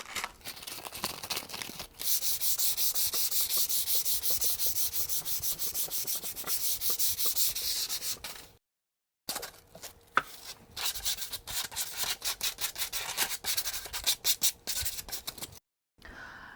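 Hand sanding across birch plywood along the grain, steady close scratchy rubbing strokes with a short pause partway through, then quicker back-and-forth strokes.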